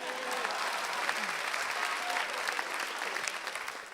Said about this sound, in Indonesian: Tepuk tangan buat orang Jawa dong.